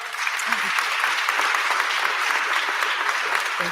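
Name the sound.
audience applause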